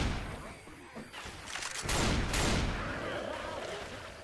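Gunfire rattles in bursts while shooting barrels in Left 4 Dead 2, with loud blasts and a broad explosive rumble peaking midway, then a decaying wash of noise.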